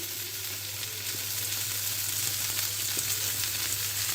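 Anchovy pilaf frying in a pan gives off a continuous, even sizzle with faint crackles over a low steady hum, heard up close and with no voices.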